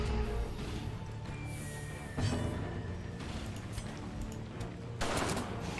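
Video game gunfire crackles in dense, overlapping volleys through a steady noisy background, with louder bursts near the start, around two seconds and again near the end.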